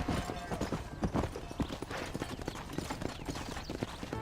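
Horse hooves gallop in quick, uneven beats in a Western open-world video game, with a brief whinny and faint background voices under the steady clip-clop.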